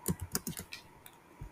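Quick run of keystrokes on a computer keyboard entering a Gemini API key, a dozen or so crisp close taps in an uneven rhythm, alone without speech.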